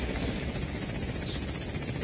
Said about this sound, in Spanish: Viene el helicóptero para acá.